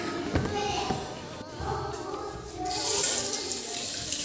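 Water runs from a tap while dishes are washed up after a meal, a steady splashing hiss that swells louder near the end, close and continuous with no talking.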